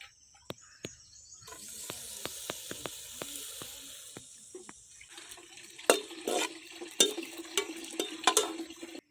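Tomatoes for a goat curry sizzle in a hot pan, with sharp intermittent clicks and clacks of a utensil against the pan over a soft hiss that swells and then turns to crackling bursts.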